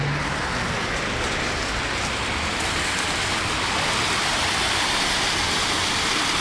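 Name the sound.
heavy rain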